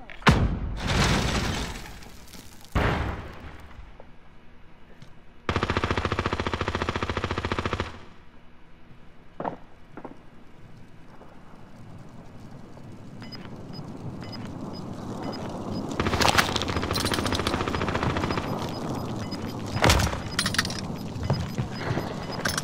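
Automatic gunfire in a battle-royale shooter game, loud broadband bursts in short clusters early on, then scattered shots and rumbling game noise with distant cracks.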